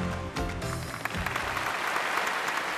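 Studio audience applauding on a Chinese family variety show as a Malaysian Chinese family is invited onstage; dense, steady clapping fills the whole stretch at close range, with a few louder claps standing out.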